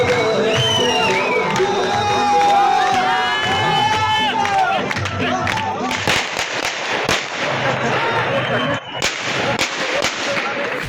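After election results in Gilgit-Baltistan, supporters fire celebratory shots into the air, sharp cracks bursting repeatedly over a loud cheering, chanting crowd.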